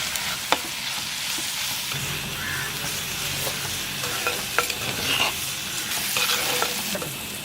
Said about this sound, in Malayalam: അതിൻ്റെ കൂടെ നമുക്ക് കരിവേപ്പിലയും കൂടെ ചേർത്ത് കൊടുക്കാം